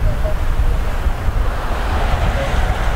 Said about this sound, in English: That wind's starting to blow now.